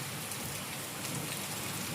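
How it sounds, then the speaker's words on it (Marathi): Steady, dense rain pours down during a cyclone storm without a break, a constant hissing roar of drops striking surfaces. "हे बघ किती पाऊस आहे"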